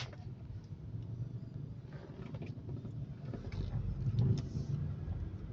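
Morning road traffic at Paseo Rotunda in Cagayan de Oro City, a continuous low rumble of car engines passing nearby that swells slightly toward the end.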